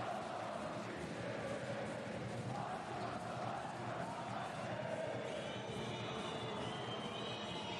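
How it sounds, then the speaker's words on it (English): A women's EuroCup basketball finals crowd, Besiktas against London Lions, roars after a made three-pointer. Dense, continuous arena noise stays loud throughout, with whistles or horns rising near the end. "Crowd are reignited with that three ball from Nogic."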